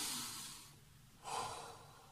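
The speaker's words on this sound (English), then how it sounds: "3 big breaths" Two deep breaths taken during a rest break in a children's and family workout, a long breath at the start and another at about the one-second mark, each loud and close, with no talk.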